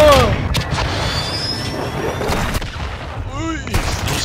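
A cruise missile strike in Call of Duty: Modern Warfare Spec-Ops, heavy booming blasts and scattered gunfire rumbling close and loud, with sharp cracks and whooshing debris amid the chaos.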